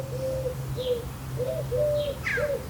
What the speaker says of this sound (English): in the background we've got that collared dove calling